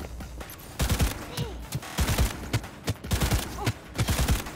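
Rapid bursts of smart pistol fire in a Cyberpunk 2077 firefight, clustered volleys of sharp shots in irregular groups, loud and close throughout with no speech.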